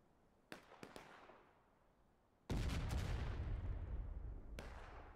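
Cannons fire in the Civil War video game War of Rights on a Peninsula Campaign map: a few sharp distant reports, then one heavy boom with a long rolling decay and another blast at the end.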